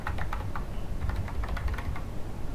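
Rapid, close keystrokes on a computer keyboard clatter in irregular bursts during a compiler construction lab setup, each key press crisp and distinct with no talking.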